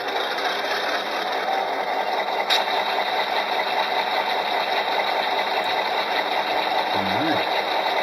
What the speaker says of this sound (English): I think we have an engine starting.